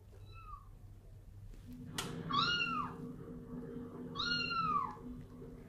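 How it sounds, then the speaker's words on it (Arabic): A cat meows twice in clear, close, drawn-out calls about two seconds apart, with a soft low hum underneath and no talking. "اسمها قطة وهذا صوتها"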